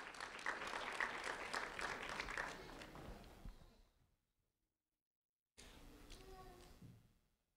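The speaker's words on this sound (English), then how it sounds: "a round of applause for Antonella Pineda Salinas" A ceremony audience applauds a third-grade student from Fort Myers with a few seconds of moderate clapping that fades into silence. Brief talk follows after the gap.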